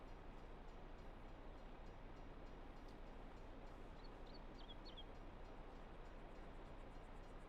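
A train rolls by in Farming Simulator 22, a quiet, constant rumble with a few faint bird chirps over it partway through.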